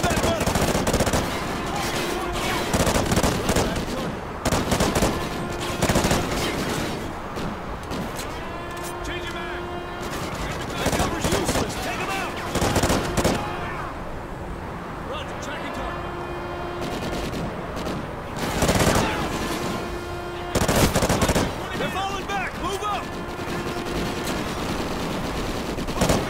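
Automatic gunfire in the video game Call of Duty: Ghosts, loud repeated bursts of machine gun fire amid battle noise, with soldiers' voices calling out between the volleys.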